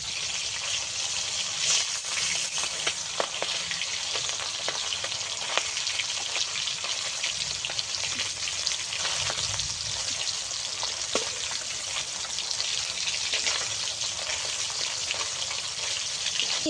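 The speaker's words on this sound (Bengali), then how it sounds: "এবার মাছও ভাজা হতে থাক" Steady, loud sizzling of Bengali dhela fish frying in hot oil continues throughout, with a few faint clicks and no talking.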